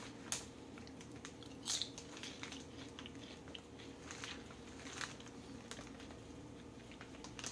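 Biscuits and gravy flavored potato chips are chewed close up, with sharp crunchy bites and softer moist mastication sounds repeating irregularly against a quiet background.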